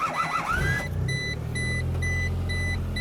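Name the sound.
2000 Chevy Geo Metro car engine starting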